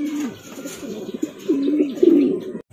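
Pigeons arriving at a loft, giving soft low rolling coos in several short overlapping phrases, close and clear over a quiet background.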